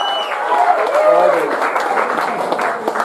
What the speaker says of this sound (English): let's hear a round of applause for the parents of the groom